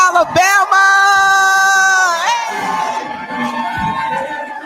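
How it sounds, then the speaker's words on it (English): A crowd at a Black Alabamians for Education Symposium in Gaston, Alabama cheers and whoops loudly to welcome a keynote speaker. Sustained shouts and a long whooping yell rise above the noise, then the cheering tapers off. "stand to your feet, clap your hands, and welcome Mr. Roland Martin to Gaston, Alabama"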